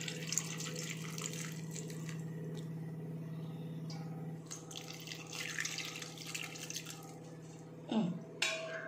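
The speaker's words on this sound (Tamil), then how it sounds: "தண்ணி ஊற்றிக்கணும்." Water pours and splashes steadily into a pan of raw banana pieces for several seconds over a low hum, then a couple of clanks near the end.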